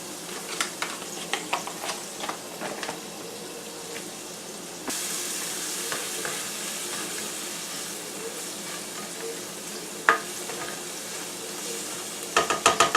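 Green onion sizzles in a pan for a shrimp and spinach pasta. The hiss grows louder partway through, with scattered clicks and clatter from utensils and no clear speech.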